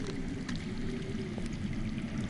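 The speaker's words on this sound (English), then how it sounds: "That's water. I hear water. From underground." Water running unseen beneath the ground, a low steady rushing murmur that stays constant and fairly faint from start to finish, with no voices.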